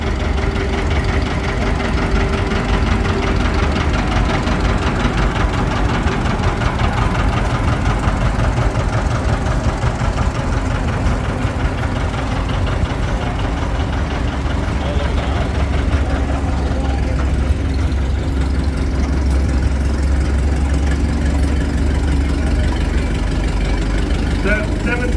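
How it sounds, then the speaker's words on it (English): A 1944 John Deere Model B tractor, nicknamed the Warbird, runs at a steady loud idle with a close, continuous low thumping engine note throughout during an outdoor tractor and vehicle parade. "This is Ron Hetrick driving a 1944 John Deere Model B."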